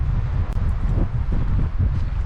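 Strong wind rumbles and buffets steadily at a lakeside campsite in Algonquin Park, a dense low roar battering the microphone with no voices.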